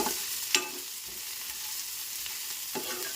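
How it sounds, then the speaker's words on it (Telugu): Onions with ginger and garlic fry in a pan for a paneer masala curry, giving a soft, steady sizzle with a few sharp utensil clinks near the start and end. "ఆనియన్స్ కొంచెం మగ్గిన తర్వాత ఇందులో అల్లం వెల్లుల్లి కూడా వేసి ఒక్కసారి ఫ్రై చేసుకోండి"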